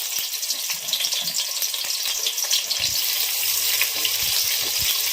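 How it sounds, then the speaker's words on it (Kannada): Chopped onions frying in hot oil for chicken biryani, a steady bright sizzle with occasional crackles and pops that stays loud and even throughout, with no talking. "ಇವಾಗ ಎಣ್ಣೆ ಕಾದಿದೆ, ಈರುಳ್ಳಿನ ಹಾಕೊಳ್ತಾ ಇದ್ದೀನಿ."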